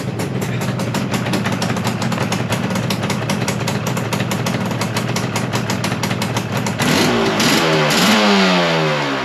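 A Kawasaki GPZ550D1 motorcycle engine runs after a kickstart, its choke not staying out well. Close, loud, steady rapid firing fills most of the stretch, then the engine note shifts and rises in a brief rev toward the end.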